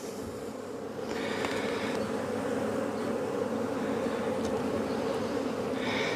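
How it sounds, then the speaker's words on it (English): Honeybees hum steadily around an open hive frame during an inspection, a dense continuous buzz that swells slightly after the first second and stays close and loud throughout, with no talking. "Just moving some bees off my fingers."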